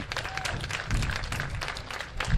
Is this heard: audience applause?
yes